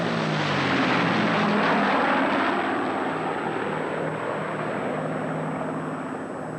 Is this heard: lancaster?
yes